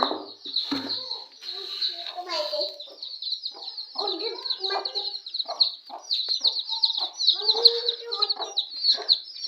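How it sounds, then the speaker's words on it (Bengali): Chickens cluck and chatter continuously at close range, with a steady high chirping and a few voices in the background. "আমি এখানে মুরগি"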